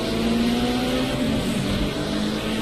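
A Formula 1 car engine roars in a racing video game at Donington Park, a loud, steady buzzing drone with a sustained tone held throughout, no voices over it.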